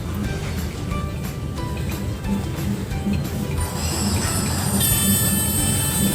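A train rumbling loudly past at close range at a small railway station near a beach, with rhythmic wheel clatter and a rising metallic squeal toward the end.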